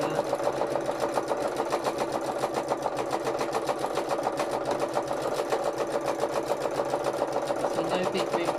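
A sewing machine running steadily through free-motion embroidery, its needle stitching in a fast, even rhythm that holds close and constant from start to finish.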